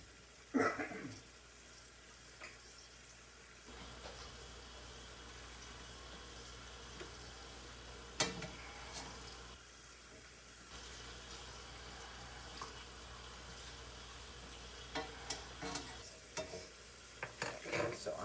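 Hot dogs frying in butter in a pan, with steady low sizzling and occasional stirring clatter and scraping, no talk.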